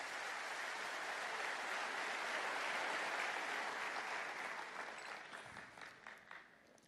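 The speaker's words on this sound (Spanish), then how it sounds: "Denle un aplauso al Señor." Church congregation applauding during a Spanish-language sermon at a conference, a steady wash of clapping that swells, then thins into scattered, fading claps near the end with no speech over it.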